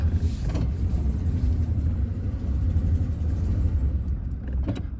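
A truck with a new starter idles and runs on the road in a steady low rumble, close and fairly loud, then the engine note fades and drops away near the end as it stalls on a curve.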